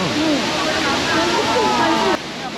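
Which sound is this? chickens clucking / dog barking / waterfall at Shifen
waterfall at Shifen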